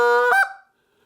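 A mouth-blown goose call gives one loud, close honk that snaps off sharply, then a short fading tail into silence.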